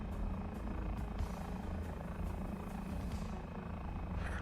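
A propeller aircraft engine drones in a tank battle video game, a steady, fairly faint mechanical hum that carries on without a break and with no talking.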